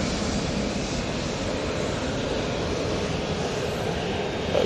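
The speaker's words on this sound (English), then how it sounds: "Do have a TUI coming onto the runway now." A TUI airliner on the runway at Manchester Airport gives a steady, broad engine roar that holds loud and unbroken throughout, with no voices over it.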